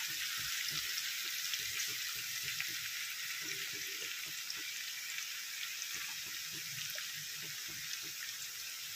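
Onions fry in a pan with a steady, quiet hiss of sizzling oil. Faint scrapes and taps come from stirring, with no voices.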